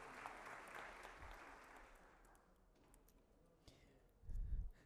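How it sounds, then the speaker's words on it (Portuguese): Audience applause at a formal honors ceremony awarding medals and titles, a broad wash of clapping that fades toward the middle and leaves quieter room sound, with a low thump near the end. "Uma salva de palmas para todos"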